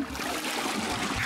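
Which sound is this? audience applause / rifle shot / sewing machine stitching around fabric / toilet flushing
toilet flushing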